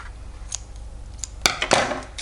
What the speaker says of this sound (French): Je viens couper mon fil